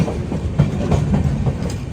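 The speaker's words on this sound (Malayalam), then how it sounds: "ബംഗളൂരു കണ്ടോൺമെൻറ്റ് റെയിൽവേ സ്റ്റേഷനിലേക്ക് നമ്മുടെ ട്രെയിൻ എത്തുന്നത്" Aboard the Chennai–Bengaluru Mail nearing the station, wheels thump and clatter over rail joints in a close, rhythmic rumble, with no voices.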